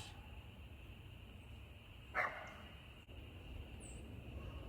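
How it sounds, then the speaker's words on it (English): One short, faint dog bark breaks a quiet indoor room tone, with no other barking before or after. "Those are my dogs."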